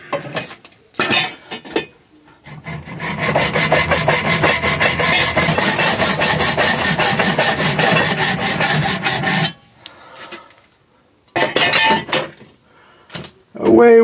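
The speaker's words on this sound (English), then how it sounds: "So I'm just going to cut the bar right next to the stem," Old bicycle handlebar being cut beside the stem with a hand saw, a steady loud back-and-forth rasp of rapid strokes lasting several seconds, with brief scrapes and knocks before and after.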